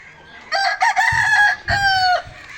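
A rooster crows loudly and close by in a long, broken call, with faint clucking from chickens around it on a chicken farm.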